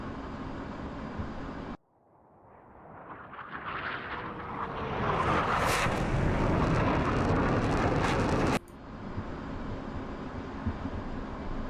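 Aircraft engine in flight in the DCS flight simulator, a broad rushing roar that cuts in abruptly, builds steadily in intensity over several seconds, then drops back sharply to the quieter engine hum.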